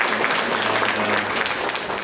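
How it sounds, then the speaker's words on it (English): An audience at a college admissions panel event claps for the panelists, a dense, loud burst of applause that fills the whole short moment. "a big round of applause for all our panelists today"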